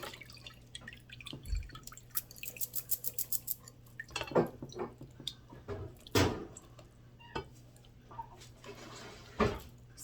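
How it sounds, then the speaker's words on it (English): Fire cider poured into a strainer: quiet, scattered drips and splashes with small clinks of glass and metal, irregular and close, with a brief run of rapid dripping early on. "I'm going to pour it into the strainer."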